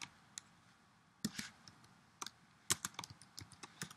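Faint, sparse typing on a computer keyboard while code is entered, scattered clicks and a few short flurries of keystrokes at a distance, with no voices.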